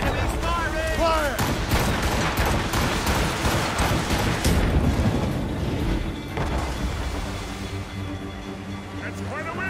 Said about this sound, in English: Watch her burn! Enemies firing! Fire!